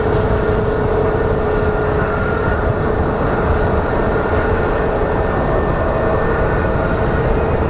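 Small CRJ regional jets are pushed back on the ramp at Phoenix Sky Harbor Airport, with a continuous loud engine rumble and a steady whine filling the whole stretch. There is no talking.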